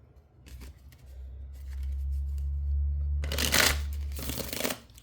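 A deck of playing cards being handled and shuffled, a sustained riffle of rapid papery flutter swelling near the end, close and fairly quiet, over a low steady hum.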